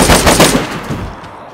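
Rapid burst of gunfire in the survival game DayZ, loud close shots in quick succession fading into a short echoing tail.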